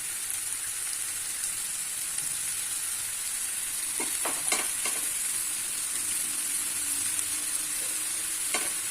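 Two dried red chillies and cumin seeds dropped into hot oil for a tempering; a continuous sizzle with a few sharp crackles and spits partway through, close and alone.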